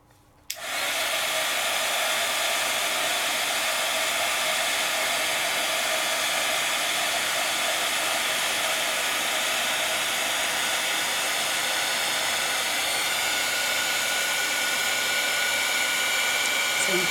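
A heat tool switches on with a click and blows a steady, close, high whooshing airflow for a long stretch while melting embossing ink powder, constant and unbroken with no talking.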